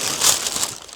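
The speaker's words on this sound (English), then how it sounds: "Oh, it's wrapped up in a lot of paper here." Paper crinkles and crumples in a brief close burst as a package is unwrapped. The rustling is dry and fairly loud, peaks quickly and then fades, with no voices.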